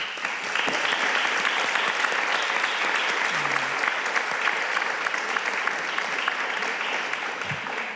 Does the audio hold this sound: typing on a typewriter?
no